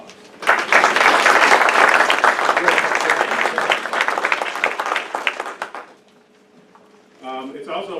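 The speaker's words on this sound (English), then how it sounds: "let's just take a moment to give Lloyd a round of applause." Sustained audience applause at a police and community trust public forum, loud and dense for about five seconds before fading into a brief lull, followed by a short burst of a voice at the end.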